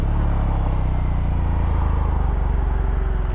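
A BMW R 18 motorcycle engine runs close by with a loud, steady, deep rumble and a slightly shaky pulse throughout.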